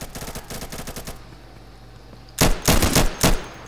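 Gunfire in the video game Insurgency: a rapid burst of automatic shots at the start, a quieter gap, then several loud, close volleys near the end.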